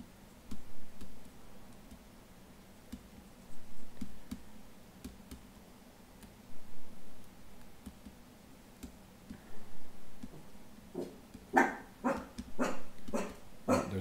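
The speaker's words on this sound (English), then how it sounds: "My dog is barking." A pet dog barks in a home during a live art session, a quick burst of several loud sharp barks near the end after a mostly quiet stretch with faint periodic ticking.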